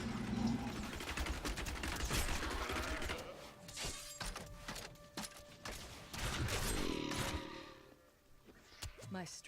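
Rapid weapon fire against enemies in the action game Diablo 3, dense bursts of shots and impacts rattling on without a break, with a voice talking over parts of it.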